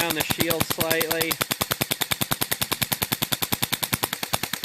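Rapid gunfire during field testing of a rifle scope shield, a fast steady string of loud close shots with someone talking briefly over the first second.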